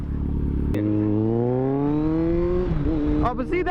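A motorcycle engine revs up in a smooth rising climb of a few seconds, drops back as the rider shifts, then starts to climb again, loud and close.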